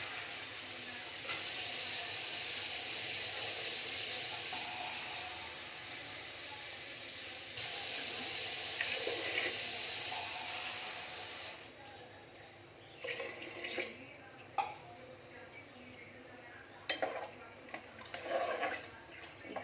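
Water poured into a cooking pot of rice with salt and spices, a steady close hissing pour lasting about twelve seconds, then quieter scattered clinks and splashes.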